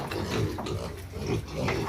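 Piglets in a pig pen grunt and oink continuously, close and fairly loud, in a dense overlapping chorus from a litter of thirteen.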